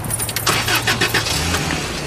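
A car with a valve problem being started, its engine catching with a loud rough rumble and clatter that runs close and continuous through the short moment.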